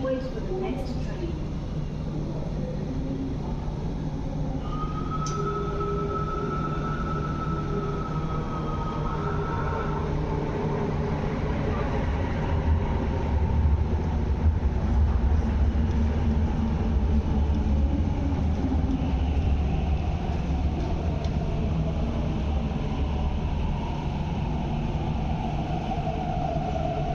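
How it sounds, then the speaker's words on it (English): An MTR train rumbles steadily into Exhibition Centre station in Hong Kong, a long sustained roar with rising and falling tones, under station announcements and voices. "The train to Shang Shui is arriving."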